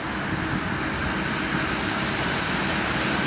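Loud, steady mechanical roar and whirring drone from a nearby street sweeper engine, continuous and unbroken with no voices.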